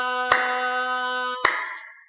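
Two crisp hand claps mark a three-beat note in a children's music lesson, each cutting across a sustained keyboard-like tone held beneath them, close and clear with no talking.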